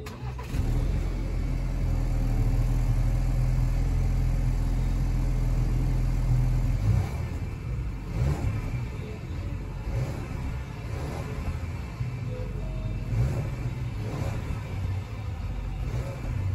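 The engine of a 2020 Ford Explorer XLT cranks and catches with a loud low rumble, then settles into a steady idle that lasts through the rest of the clip, close by with no talking.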